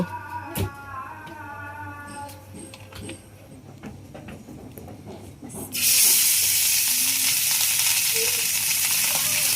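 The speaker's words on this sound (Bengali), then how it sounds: "আগে মাছটা ভেজে নেব" Hilsa fish dropped into hot oil on a gas stove sets off a sudden loud, steady sizzle that holds to the end, after a few quiet seconds of kitchen clatter.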